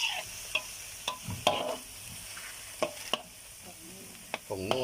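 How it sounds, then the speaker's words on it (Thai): Pork being stir-fried for Thai holy basil stir-fry, a spatula scraping and knocking the pan at irregular intervals over a soft continuous sizzle, close by with no voices. "ผัดไปเรื่อยครับจนหมูมันคลุกเคล้าแล้วมันสุก"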